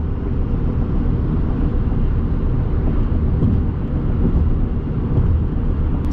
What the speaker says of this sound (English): I want you guys to hear the road noise real quick